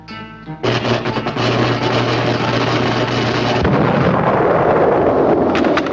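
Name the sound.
booby trap explosion in a cartoon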